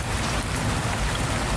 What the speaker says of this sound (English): I can't hear you over the rain.